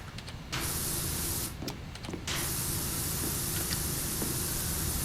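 Pressure washer nozzle spraying in the video game Powerwash Simulator, a loud, steady rushing hiss broken by two short gaps early on, then running continuously.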